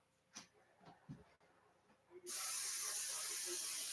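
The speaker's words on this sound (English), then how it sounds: "Now, I'm going to use the cooking spray in case it sticks." Cooking spray bursts from an aerosol can onto a pan taken off the burner, a steady loud hiss lasting well over a second after a few quiet handling sounds and faint breaths.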